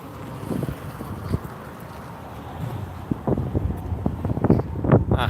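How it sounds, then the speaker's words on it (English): Gusty wind blows outdoors beside an abandoned Phillips 66 station, a steady broadband rush with rougher buffeting bursts that grow stronger toward the end. "Now the wind's picking back up again."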